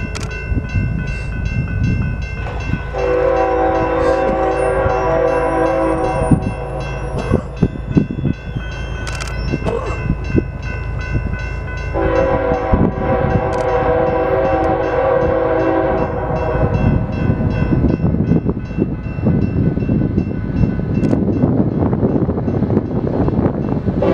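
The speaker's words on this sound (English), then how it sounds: "Before this train goes by, I want to say something." A long Grand Canyon Railway train with two sets of distributed power units rolls past, its horn sounding loud and sustained twice over a steady rumble of wheels and engines.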